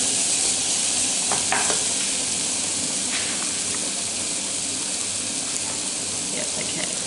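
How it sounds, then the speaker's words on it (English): Onion frying in butter in a pan, a steady sizzling hiss with occasional scrapes and clicks of stirring, close and continuous, without talk. "So we just want the onion to change colour a little, absorb all that butter."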